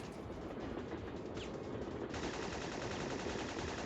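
Rapid gunfire in Syphon Filter, a dense continuous rattle of shots filling the whole stretch at moderate level, brightening partway through; no voices.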